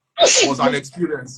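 A man sneezes sharply once, then talk resumes right after it.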